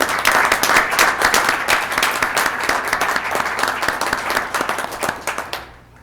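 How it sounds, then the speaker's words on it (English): Applause for police officers at a Blue Springs city council meeting, a dense steady clapping from the room that carries on for several seconds and then tapers off near the end. "let's give them a round of applause for what they do"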